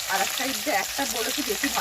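Mrigal fish frying in a pan with a steady, close crackling sizzle and soft spattering that runs continuously without pause.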